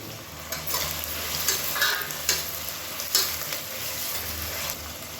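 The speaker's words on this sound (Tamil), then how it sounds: "இதோடவே ஒரு கைப்பிடி புதினா கொத்தமல்லி சேர்த்துக்கலாம். எண்ணெயில் சேர்த்துட்டோம்னா அந்த இலையெல்லாம் நல்லா வதங்கிடும்." Green chillies with a handful of mint and coriander leaves fry in oil, giving a steady moderate sizzle with occasional stirring scrapes and soft clatters, no voices.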